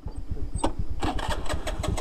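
A scooter engine starting: repeated rapid cranking pulses with a sharp click, then the motor catching into a rough, throbbing run, loud and close, with no talk.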